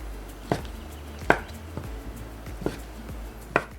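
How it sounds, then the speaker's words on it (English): Shiitake mushrooms are chopped into small cubes with a knife on a cutting board in a home kitchen: four distinct, sharp chops spaced about a second apart, close and fairly loud, with no talking. "For the shiitake mushrooms from the stalk, cut off the bottom end and cut them into small cubes."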